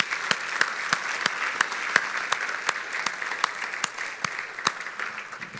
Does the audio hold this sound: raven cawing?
no